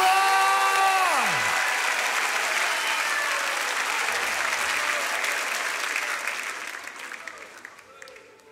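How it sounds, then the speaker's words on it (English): Church worship congregation clapping and cheering loudly, a dense wash of applause that starts with a fading sustained tone and slowly tapers off toward the end. "lift up your voice and clap your hands and shout"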